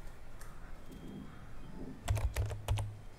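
A computer keyboard is typed on at close range: a few soft taps, then a quick burst of sharp keystrokes over faint room hiss.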